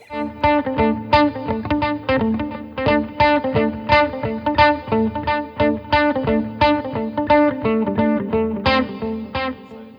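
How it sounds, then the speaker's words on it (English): An electric guitar through a Yamaha THR-10 amplifier with slow delay plays a rhythmic chordal pattern, each note repeating in slow echoes that blur into the following strums. "there we've got a slower delay"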